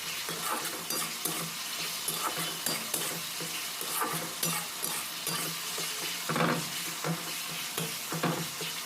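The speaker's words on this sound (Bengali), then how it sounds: "এইভাবে নাড়াচাড়া করে মশলাটা ভালোভাবে তৈরি করতে হবে" Spice masala with tomato, coriander powder and salt being stirred in a pan over medium heat, with steady scraping strokes over a continuous sizzle and no talking.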